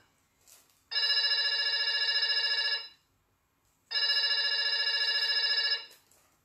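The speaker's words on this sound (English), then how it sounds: "A call coming in right now." An incoming call sets a telephone bell ringing on a call-in counselling show: two long, loud electronic ring bursts of about two seconds each, separated by a short silence.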